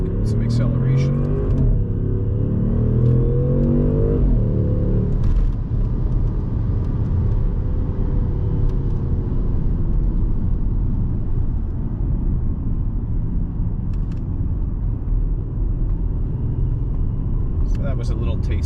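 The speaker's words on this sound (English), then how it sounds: "I'll put it in manual here and get some acceleration." A 2017 Audi S7 Prestige accelerates in manual mode, its engine rumbling from inside the cabin as the pitch sweeps up through the gears and then settles into a steady drone, with someone talking over it.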